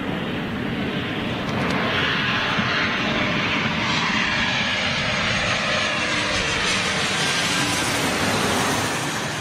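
A Boeing 777 jet comes in to land on the right-hand runway at London City, its engine roar broad and steady throughout, loud and close with no voices.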